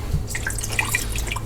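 Water pours into the inner pot of a Ninja Foodi pressure cooker, brief splashing and dripping plinks against the metal pot, close and fairly loud.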